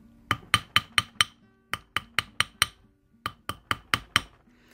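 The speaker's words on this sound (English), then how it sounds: "whenever we hit it with the hammer, the brass side." A brass hammer strikes a wire ring on a steel mandrel in three quick bursts of five or six sharp metallic taps each, close and clear with short pauses between groups.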